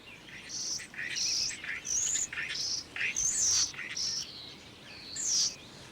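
A busy stream of whistles, clicks and chattering phrases pours out in quick bursts, a starling's song, fairly close and lively.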